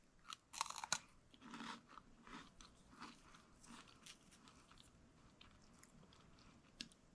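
Freeze-dried sour food bitten and chewed up close, with loud crisp crunches at first, then a steady run of softer crackly chewing, no talking.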